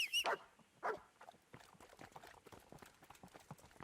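Rapid hoofbeats of a horse in the video game Kingdom Come: Deliverance clatter in a steady galloping rhythm, fairly quiet, after a couple of louder thuds at the start.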